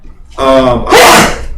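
A single close, loud human sneeze, a voiced inhaling build-up followed by a sharp, breathy burst.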